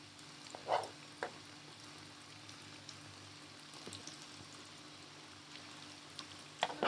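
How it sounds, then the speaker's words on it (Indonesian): Chicken wings deep-frying in hot oil in a wok give a faint, steady sizzle with a few sharp pops and crackles scattered through. "Sekarang tinggal kita goreng."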